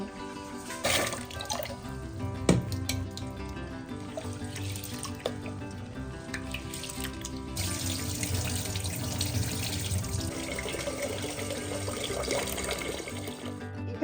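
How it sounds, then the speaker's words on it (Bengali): Rice rinsed under running tap water at a kitchen sink while preparing Kolkata biryani; a continuous close faucet stream splashes with clinks and sloshing of grains and water throughout, no voices. "চাল ধুয়ে আমি 10 থেকে 15 মিনিট মতন চালটা আগে ভালো করে ভিজিয়ে নেব"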